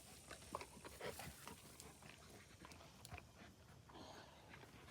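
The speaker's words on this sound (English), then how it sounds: "The dog's an idiot." A dog pants quickly outdoors in a garden, soft rapid breaths with small snuffles and whimpers, faint and somewhat distant in the quiet.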